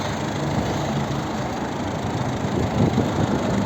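A 2010 Volvo V50 1.6 turbo diesel engine idles steadily, constant low rumble with a broadband hiss, close and fairly loud, no voices.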